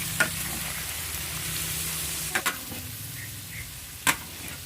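Chicken sizzling as it is stir-fried for Ilocano-style pansit miki bihon, a steady close hiss of frying broken by a few sharp clicks of a utensil against the pan.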